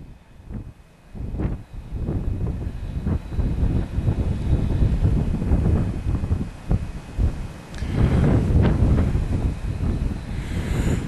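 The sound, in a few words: strong wind blowing on a fell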